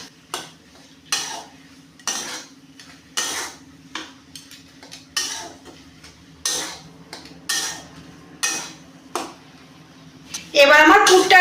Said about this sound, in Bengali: পুরের সঙ্গে মিশিয়ে নেবো।